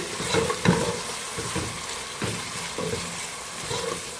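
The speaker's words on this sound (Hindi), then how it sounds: "अब लहसुन अदरक के पेस्ट को प्याज के साथ फ्राई करेंगे।" Steady sizzle of garlic-ginger paste frying with onion, with intermittent stirring scrapes and clinks from a pan, close and continuous, no talking.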